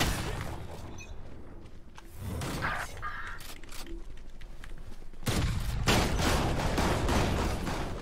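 Gunfire in the tactical shooter Valorant, with bursts of shots and sharp cracks that get denser and louder toward the end, mixed with in-game effects and no clear talking.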